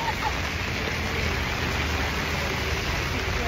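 Steady monsoon rain falling outdoors near a bank, an even, dense hiss of drops that holds constant throughout at moderate loudness with no other clear sounds.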